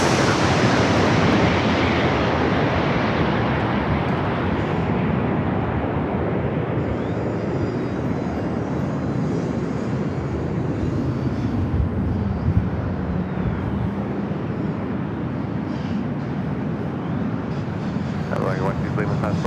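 A Southwest airliner passes low overhead on arrival into San Diego, a loud, rough jet roar that is strongest at first and then eases into a steady, receding rumble.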